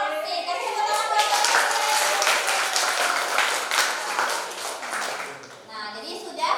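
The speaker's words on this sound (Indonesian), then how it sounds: "Kasih tepuk tangan buat" A classroom of students claps for the best group in an accounting lesson, a sustained close patter of many hands lasting several seconds, with children's voices mixed in.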